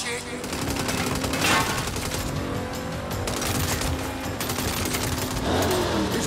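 Gunfire in the video game Saints Row, rapid bursts of machine-gun and rifle shots rattling steadily through the whole stretch, mixed with engine noise and game effects during a chase.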